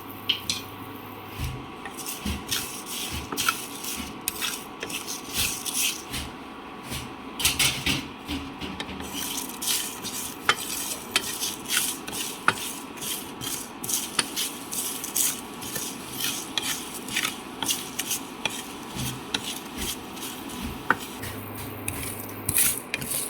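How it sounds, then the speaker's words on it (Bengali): Whole spices, bay leaves, cinnamon, peppercorns and three dried chillies, being dry-roasted and stirred in a pan, producing a continuous dry rustling and scraping with frequent small clicks and taps, close and moderately quiet. "আমার মশলাটি ভেজে নেওয়া অনেকটাই হয়ে এসেছে"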